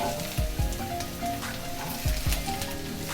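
Chopped garlic and onion fry in a tablespoon of cooking oil, a steady crackling sizzle with a few low knocks as a utensil stirs the pan, close and alone.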